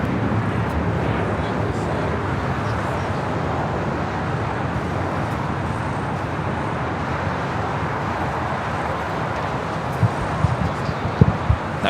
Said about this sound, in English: That was American Airlines Flight 27 heading to Tokyo Haneda. The 787-8 Dreamliner.